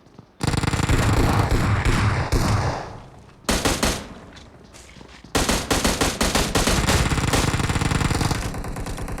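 Gunfire in the mobile battle-royale game Battlegrounds Mobile India, loud rapid bursts of automatic fire with short pauses between them, building into long sustained volleys alone in the mix.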